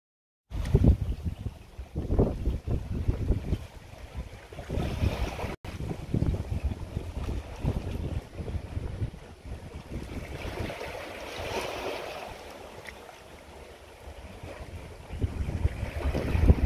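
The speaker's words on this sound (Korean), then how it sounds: "여기서 듣는 파도 소리도 정겹군요" Sea waves wash and break against a rocky islet at Dadaepo, Busan, under strong wind buffeting the microphone, with surges rising and falling and no one speaking.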